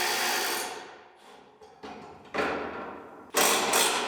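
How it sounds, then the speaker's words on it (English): Close metallic clicks and ratcheting bursts come from a wrench working the bolts that hold a car fender to the radiator support, in several separate spells with short pauses between them. "unbolt the fender from the radiator support"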